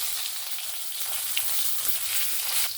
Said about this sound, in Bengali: এবার আমি সামান্য পরিমাণ একটু তেল রেখেছি ওতে আমি বেগুনগুলোকে ভেজে নেবো